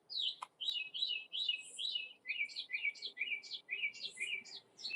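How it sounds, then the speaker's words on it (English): Mockingbirds in a garden sing a run of bright, repeated chirping phrases, clear and fairly near over a quiet background. "And there's the mockingbirds."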